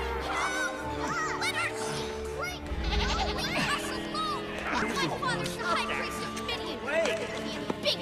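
Sheep and goats bleat repeatedly in a film scene from The Prince of Egypt, wavering cries overlapping with voices and background score.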